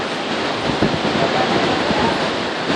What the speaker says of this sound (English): there's some rapids coming towards us